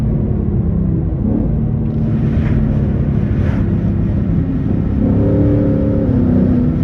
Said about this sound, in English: Gonna get some downshifts in right here.